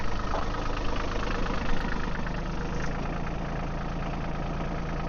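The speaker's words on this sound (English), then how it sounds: "now we'll start the tractor up" A tractor engine runs at a steady idle with a low, even rumble and faint knocking pulse, close and continuous, no voices over it.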